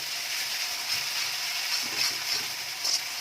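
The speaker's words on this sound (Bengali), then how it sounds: "দিয়ে একদম ভালোভাবে একটু নাড়াচাড়া করে নেব" Chicken pieces coated in ginger garlic paste fry in a pan, a steady soft sizzle running throughout with a few faint scrapes of stirring.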